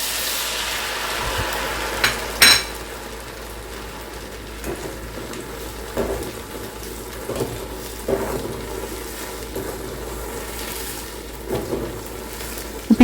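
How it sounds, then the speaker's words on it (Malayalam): A cornflour mixture poured into hot used coconut oil sizzles and crackles, a steady frying hiss with a few sharper spits and pops throughout. "ചൂടായ വെളിച്ചെണ്ണയിലേക്ക് ഇത് ഒഴിച്ചു കൊടുക്കുകയാണ് വേണ്ടത് അപ്പോൾ ചെറുതായിട്ടൊരു ചീറ്റലൊക്കെ ഉണ്ടാകും"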